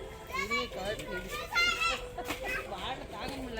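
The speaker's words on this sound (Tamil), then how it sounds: "இதெல்லாம் பார்த்திங்கன்னா குழந்தைங்க விளையாடுற இடம்" Children play at a temple play area in Namakkal, their high-pitched chatter and shouts overlapping continuously at close to moderate distance, with adult speech mixed in.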